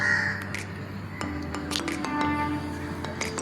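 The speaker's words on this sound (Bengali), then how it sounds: "কাকেরা ডাকছে" Crows caw repeatedly from outside a balcony on a foggy morning, sharp harsh calls at moderate distance over a low ambient hum with scattered clicks.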